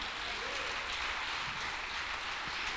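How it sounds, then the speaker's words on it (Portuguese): Steady clapping from a church congregation during a worship service, a dense even patter of many hands that holds at moderate loudness throughout with no break. "Dá um aplauso a Jesus aí."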